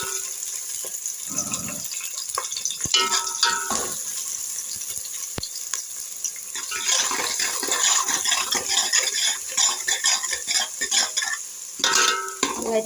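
Onions, green chillies and fish curry ingredients are stirred as they fry in a pan in a village-style kitchen, a steady sizzle with scraping spoon strokes and a brief splash of water partway through, with no talking.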